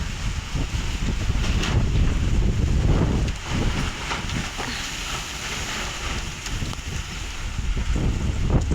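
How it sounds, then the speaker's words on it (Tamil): Strong summer wind drives rain in a steady, loud broadband roar with gusty surges and buffeting against the microphone throughout, no voices. "காற்றடிச்சு மழை இது அப்படியே தள்ளுது."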